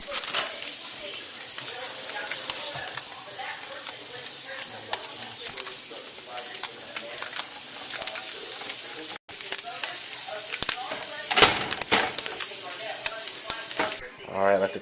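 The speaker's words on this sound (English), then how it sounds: "this tofu, grilling them on the same pan right there" Tofu sizzles and fries steadily in a hot pan, with a loud continuous hiss throughout and occasional stirring and scraping toward the end.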